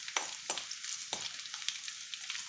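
Garlic fries in a pan until browning, a steady close-up crackling sizzle punctuated by a few sharper spattering pops, with no talking.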